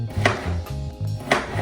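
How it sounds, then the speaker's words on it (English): A knife chops food on a cutting board in a few crisp, close knocks, about three sharp strikes in quick succession over a faint background hum. "We're gonna chop it up."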